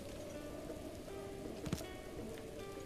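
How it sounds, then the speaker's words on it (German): Rain falls steadily in the video game Zelda: Breath of the Wild, a soft, fairly quiet patter with one brief louder crackle near the end. "Ich hasse es, wenn es hier regnet."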